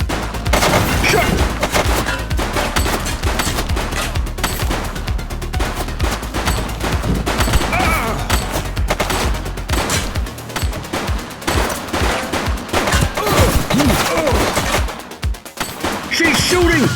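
Rapid gunfire rattles through a shootout in The Precinct video game, with dense bursts of automatic and single shots crackling almost continuously and loud throughout, brief shouted voices mixed in.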